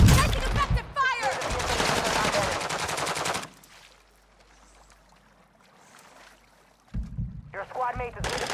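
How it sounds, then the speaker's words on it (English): Gunfire in Call of Duty: Modern Warfare II: dense, loud bursts of automatic fire with voices over them, a quiet lull, then more shooting and shouted talk at the end. "Taking effective fire!"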